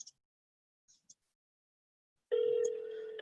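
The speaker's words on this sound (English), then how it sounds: "Let's see if they pick up the phone." A telephone rings on an outgoing call, one steady, loud ring tone starting after a couple of faint clicks and continuing to the end.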